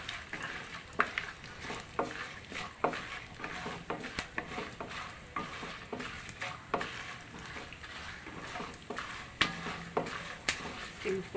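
Chana dal, urad dal, mustard seeds and cumin fry in hot oil for a tempering, a soft continuous sizzle broken by frequent light pops, crackles and scraping stirs in a pan.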